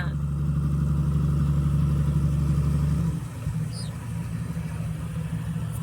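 A heavy truck engine runs steadily and loud up close, a low droning rumble that drops in level partway through and keeps idling without talk.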